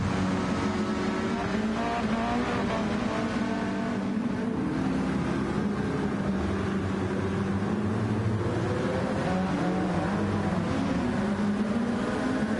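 A race car in the GR3 class of a racing video game, running in wet, horrific conditions at Autopolis, drones at a loud, sustained engine pitch under throttle that wavers slightly, heard alone without voices.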